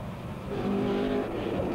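Rally cars, a Ford Escort and a Darien, race past on a stage of the West Cork Rally 2003, with a distant engine drone that rises briefly as they pass.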